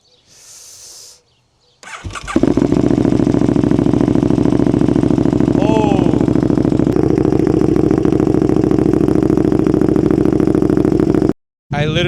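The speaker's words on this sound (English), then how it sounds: "Cold start time. Bike is primed up, ready to go." A KTM 1290 Duke with an aftermarket exhaust and mid pipe fires up from cold after a brief crank, then settles into a loud, steady, throaty idle close by that holds for several seconds before cutting out.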